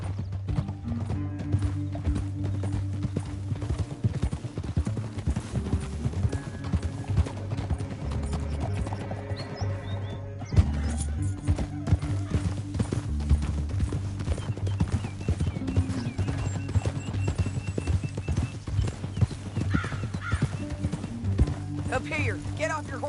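Horse hooves clip-clop steadily at a canter in Red Dead Redemption 2, with occasional whinnies, layered over a low droning music score and intermittent game dialogue throughout.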